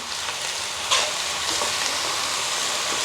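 Onion, potato, brinjal and chilli sautéing in a pan, a dense continuous sizzle with a brief louder stir or toss near the start, close and steady without talk.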